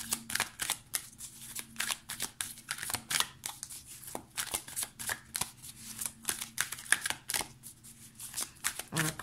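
Tarot cards are handled and drawn from a deck in a quiet room, a steady run of soft, close riffling and sliding snaps coming in quick bursts with brief pauses between them.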